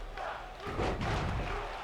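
A wrestling arena crowd in WWE 2K19 swells into loud cheering and chanting, a dense roar building after a brief dip and staying strong, with a thud mixed in.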